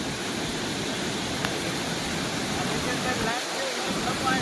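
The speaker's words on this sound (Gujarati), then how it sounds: "પાણી એટલું વહે કે અહીંયા ઊભા પણ દેતું નથી" Fast, deep floodwater rushing through a broken embankment of the Ojat river during heavy rain, a constant loud broadband roar with no pauses, heard up close.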